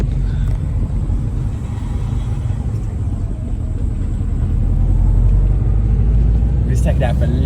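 A Subaru Impreza 22B STi, a JDM car, drives down a street with a steady, loud low engine and road rumble heard from inside throughout.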